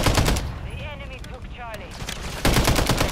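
Rapid bursts of MTZ-762 gunfire from the video game Modern Warfare 3, loud and close, with one volley at the start and another near the end and a short lull between.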